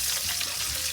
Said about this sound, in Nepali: साग पनि भुट्नु पर्यो अब साग भुटेर अलिक त नुन पनि लाउनु पऱ्यो